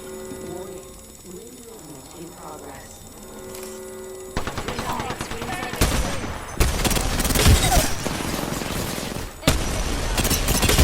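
Sheila, the minigun in the Apex Legends video game, spins up with a mechanical whir and then fires loud, sustained bursts of rapid gunfire with a brief pause between them.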